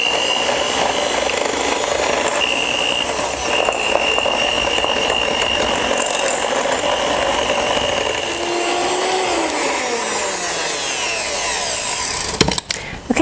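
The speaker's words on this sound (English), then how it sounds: "Now we'll cream the butter and sugar." An electric mixer creams butter and sugar for cookie dough with a loud, steady, continuous whir that shifts slightly in pitch, then ends in a few clattering knocks.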